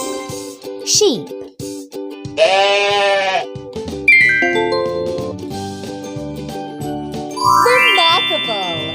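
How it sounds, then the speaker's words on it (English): A sheep's bleat rings out in a children's cartoon animal matching game, surrounded by bright dings, tinkling jingles and sliding game tones. "Sheep."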